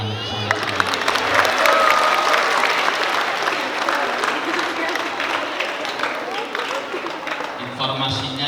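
Vocational high school students at a motivational session clap together in a dense, sustained burst of applause, with some cheering and crowd noise mixed in, loud and close throughout.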